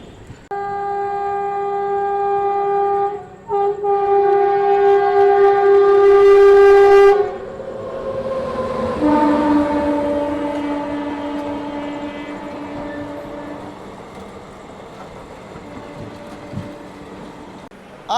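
A train passes through Betul railway station in Madhya Pradesh, its horn blaring loud and sustained for several seconds, then a second, lower horn call as the rumbling train keeps rolling by close at hand, with no speech.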